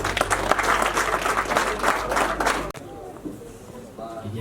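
Dense, loud audience applause fills a wedding celebration for a couple, sustained for nearly three seconds before cutting off abruptly, after which a voice is heard.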